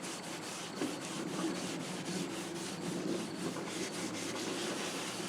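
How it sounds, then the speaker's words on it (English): Steel wool with acetone rubbed over the wooden cabinet of an RCA 87K, a continuous close scratchy scrubbing in rhythmic back-and-forth strokes, no voices. "we'll just kind of start rubbing with the"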